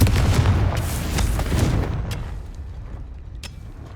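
Confringo blast spell in the game Hogwarts Legacy erupts as a loud, rumbling explosion lasting about two seconds, then decays with scattered small pops and crackles.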